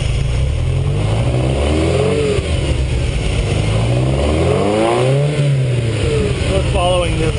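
A Ferrari 308 GTS engine revving after a carburetor sync, rising and falling through repeated throttle blips, loud and close, with a voice speaking over the engine.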